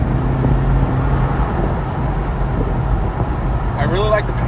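A 2022 Corvette Z51 with its top off rolls along the road, a steady low engine rumble mixed with wind and road noise; a voice talks over it near the end.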